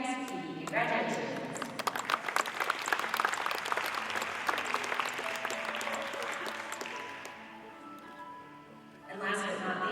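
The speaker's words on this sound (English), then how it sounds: "Let's have another round of applause for our winning Milking Shorthorn" Audience at a dairy show applauds a winning Milking Shorthorn fall calf with sustained clapping that fills an indoor arena, easing off near the end as a voice returns over the crowd.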